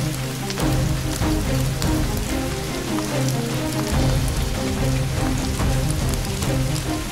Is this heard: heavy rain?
yes